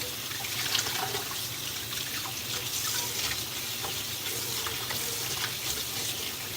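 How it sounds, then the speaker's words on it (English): Tap water runs steadily into a sink over a pan being rinsed, a continuous splashing hiss with small drips and clinks, close and alone without talk. "now we rinse off the pan"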